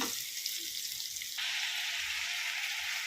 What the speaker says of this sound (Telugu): నేను బీట్రూట్ క్యారెట్ ఆలు ఫ్రై చేస్తున్నా